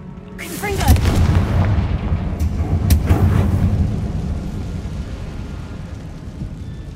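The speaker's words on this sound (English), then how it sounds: "Confringo!" Confringo spell explosion in Hogwarts Legacy: a loud, close blast with a heavy low rumble and crackling debris that swells for about three seconds, then fades into a long, dull tail.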